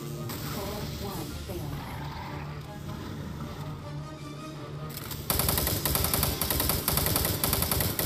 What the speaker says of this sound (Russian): Он такими обычными снарядами что стреляет?